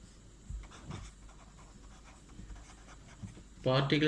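Chalk writing on a classroom board during a chemistry lesson, faint scratchy strokes in quiet room tone, ending in a burst of nearby voices.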